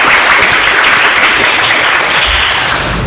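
An audience claps and applauds for a school podcast called Semagosi, a dense steady burst of many hands filling the room, loud and sustained throughout.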